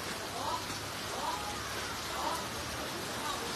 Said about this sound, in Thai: ตอนนี้ฝนตกหนักเลยค่ะ